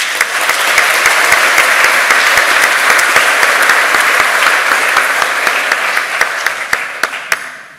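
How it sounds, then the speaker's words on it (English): Sustained applause from a keynote audience at a conference, dense steady clapping throughout that thins into a few scattered claps near the end. "they all deserve a huge applause"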